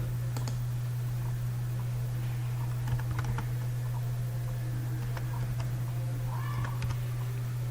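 Sparse computer keyboard typing as a short word is entered, a handful of light clicks scattered over a steady low electrical hum.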